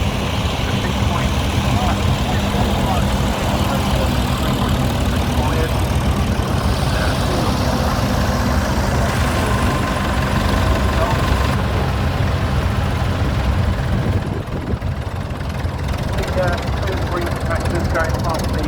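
A green John Deere tractor with yellow wheels and another tractor with red wheels drive past at a steam rally, giving a loud, steady engine drone close by that eases slightly near the end over busy outdoor background noise.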